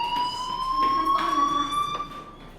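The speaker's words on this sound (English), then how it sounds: "do you hear that fire alarm?" A fire alarm in the video game Life Is Strange rings as a steady, loud electronic tone with a slight upward drift, continuous across the short span with no talk over it.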